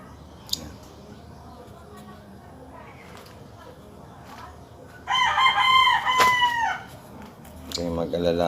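A fighting rooster clucks softly, then lets out a loud, close crow midway, followed by more clucking, while someone talks quietly in the background.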